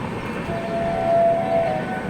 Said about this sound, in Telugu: పక్కన రైల్వే సౌండ్ వినిపిస్తుంది